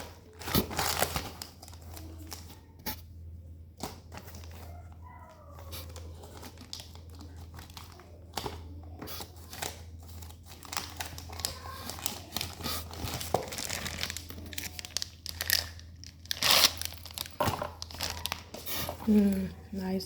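Hands work open a taped sample pouch, crinkling and tearing the plastic wrapping in irregular rustles and crackles close to the microphone while someone talks over it.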